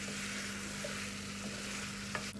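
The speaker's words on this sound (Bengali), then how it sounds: "ডিমটা দিয়ে একটু নাড়াচাড়া করে দিচ্ছি ভালো করে" Egg stirred into cooked vegetables in a pan, a soft steady sizzle with faint scraping of the stirring, quiet and close, with no voices.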